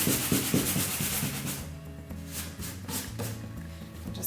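Sandpaper or a cloth rubs over a chalk-painted wooden side table to distress the finish, with close, repeated scratchy strokes in a fairly steady rhythm.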